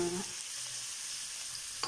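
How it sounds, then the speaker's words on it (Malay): Beef sizzles steadily in a pan with onions that have already cooked, a dense, continuous frying hiss close up with a faint stir near the end and no talk. "Kita masukkan kita punya daging. Haa. Ini kita goreng dia dulu kan."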